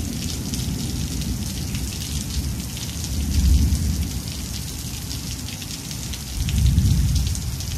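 Steady rain pours down and patters on surfaces, with low rumbles of thunder swelling twice beneath the constant hiss.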